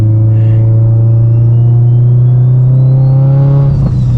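A Mitsubishi Evo 8 with a straight pipe exhaust revs loudly and close by, its raw droning note climbing steadily in pitch before a brief drop at the end.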